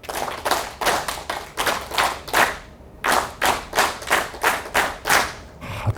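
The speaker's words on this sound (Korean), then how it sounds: "박수 시작." An audience at a lecture on national security and unification claps the 3-3-7 rhythm together: two quick sets of three claps, then a run of seven.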